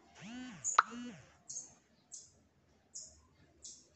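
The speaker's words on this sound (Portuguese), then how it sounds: "Escuta o piadinho dela, galera." A female sibite bird in a cage gives a series of short, high, thin chirps spaced about half a second apart, following a voice at the start.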